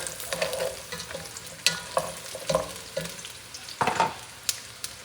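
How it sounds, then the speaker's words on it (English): Bread is stirred into garlic soup in a pan for Spanish sopa castellana, with quiet bubbling under repeated scraping and knocking stirs of a utensil at an uneven rhythm. "I'm going to add the bread. I'm going to mix everything together"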